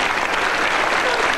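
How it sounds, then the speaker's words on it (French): Dense, steady studio audience applause on a 1992 French TV panel show, loud and continuous throughout with no let-up. "Je crois qu'on va applaudir nos citrons."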